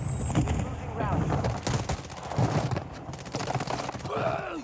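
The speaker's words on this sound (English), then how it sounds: "You're getting shot by our Lodi somewhere." Rapid bursts of automatic gunfire ring out in the video game Warzone 2, sharp cracks repeating throughout under and between players talking over voice chat.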